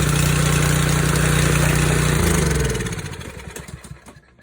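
Kohler engine on a pressure washer, run with the pump removed, loud and close with a steady running drone that then winds down and sputters to a stop, no talking.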